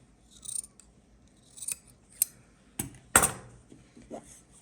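Scissors snip through thin craft material for a Dollar Tree Halloween DIY project, giving a handful of separate close cuts, with one sharper, louder snip near the middle and a quieter one trailing after.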